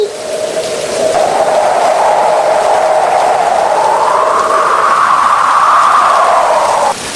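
Rain falling in a cartoon scene, a loud steady wash of rain noise with a tonal, slowly shifting whistle-like sweep running through it, with no talk.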